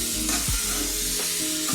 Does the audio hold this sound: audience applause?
no